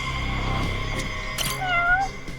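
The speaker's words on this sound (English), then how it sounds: "That's a cat." A cat meows in the video game Judgment, a clear, fairly loud rising-and-falling cry near the end, over steady game music and ambient background.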